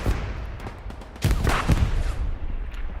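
Panzer IV tank guns pumping out HE rounds amid a video game battle, heavy booming blasts and gunfire crackle in a dense close mix, with a big burst landing midway and the din staying loud.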